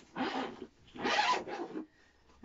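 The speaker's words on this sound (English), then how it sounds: "So, unzip your case." A zipper is drawn open around a fiddle case in two close, steady pulls, each about half a second long, with a short pause between them and no talking.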